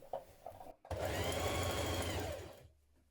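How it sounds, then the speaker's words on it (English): A sewing machine stitches a hem facing onto a spring dress in one steady, loud run of rapid stitching that lasts about two seconds. A couple of faint handling taps come just before it. "Now stitch your hem facing to your dress."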